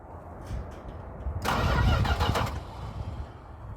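A 1973 Chrysler 400 engine cranking over on its starter, a rough rhythmic churning that starts abruptly and runs for about a second and a half, close and fairly loud, fading to a lower rumble afterward.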